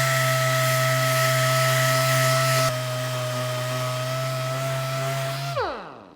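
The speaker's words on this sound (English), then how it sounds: "We'll take some 180 sandpaper and smooth this out a little bit." A power sander running steadily on a 1982 Jeep CJ7 frame with 180-grit sandpaper, a loud continuous motor whine that dips partway through and then winds down and stops at the end.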